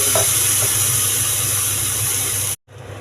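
Ground onion chutney tipped into hot oil with mustard seeds and curry leaves sizzles in a steady, dense hiss, close and continuous, then cuts off briefly near the end before resuming more softly.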